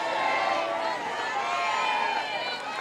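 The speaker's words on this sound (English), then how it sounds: "the crowd here, and Norman gives her a hand" Softball crowd at a Norman regional game applauding a player, a steady broad wash of clapping and murmur filling the whole stretch at even loudness with no clear talk on top.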